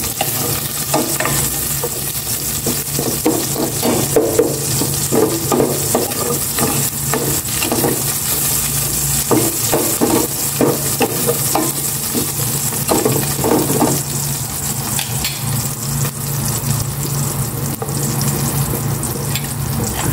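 Garlic sautés in a hot pan with a continuous loud sizzle and frying crackle, while a utensil stirs and scrapes against the metal in repeated clinks throughout.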